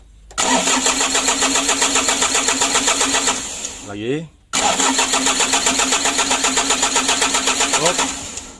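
A Mitsubishi L300 diesel engine turning over on its starter during engine assembly, loud rhythmic cranking that pauses briefly, then cranks again steadily without catching, with people talking close by.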